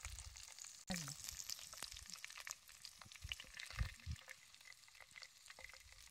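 A whole chicken is turned over and over in a kadhai of hot oil in an outdoor riverside field. A quiet, steady frying sizzle runs throughout, with occasional low thumps and rattles from the pan.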